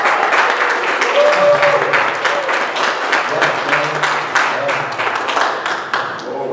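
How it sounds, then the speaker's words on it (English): A church congregation claps during a Sunday morning service, dense and steady applause from many hands filling the sanctuary, with faint sustained musical tones underneath. "Let's give him a hand clap."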